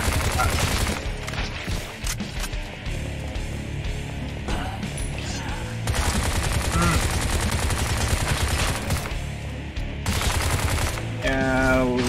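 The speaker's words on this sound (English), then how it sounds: "Lovely, you have a machine gun" Machine gun fire in a sci-fi first-person shooter game, fast continuous bursts hammering away near and loud, broken by short pauses, with someone talking over the shooting.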